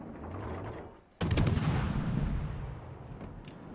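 Naval guns firing from a destroyer in World of Warships, a sudden loud boom followed by a long rumbling decay, preceded by a low engine drone.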